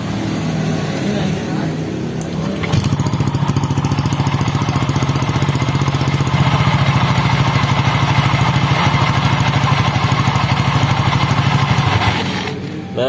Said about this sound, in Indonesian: Kita hidupkan dulu motornya.